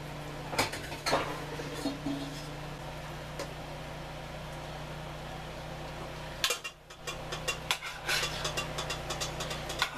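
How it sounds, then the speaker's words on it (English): Cooked pasta is drained and tipped into a pot of tuna and shrimp puttanesca sauce, with metallic clanks of pot and utensils in two short clusters over a steady low kitchen hum. "the pasta is now done, so I'm going to drain it and then add it to the sauce"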